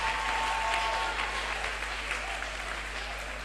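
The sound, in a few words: congregation applauding for the Lord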